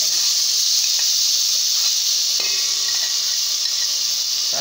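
Almond paste sizzling in hot ghee over a very low flame while being stirred for fig kheer, a steady bright hiss throughout with faint scraping, no talking.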